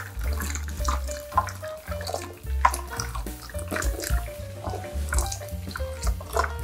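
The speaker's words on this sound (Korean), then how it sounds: "숟가락으로 이 채 걸름망에 살살 밑을 저어주면서 물을 부어줍니다" Water for water kimchi is poured through a mesh strainer while a spoon gently stirs underneath, a close run of splashing and dripping with small knocks throughout, with no talking.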